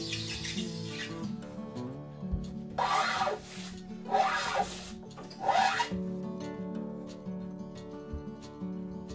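A carpenter's electric hand planer shaves down a wooden wall frame during a home renovation, taking off several millimetres in one pass. Three loud, rasping passes of a few seconds each rise over quiet background music.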